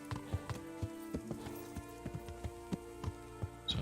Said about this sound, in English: I think our horse is getting agitated.